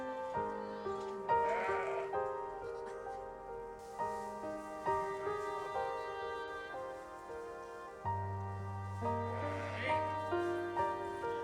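Sheep in a farm field give two drawn-out, wavering bleats several seconds apart, heard over a steady layered tonal background.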